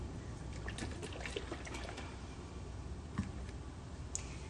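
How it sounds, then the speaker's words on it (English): Tony Chachere's injectable marinade being poured into a cup, a soft continuous liquid trickle with a few faint ticks and clinks, quiet and alone. "Maybe a half a cup I'm pouring right in there."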